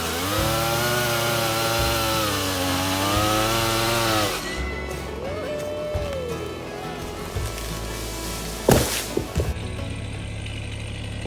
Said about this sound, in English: it is sad to cut down these beautiful birch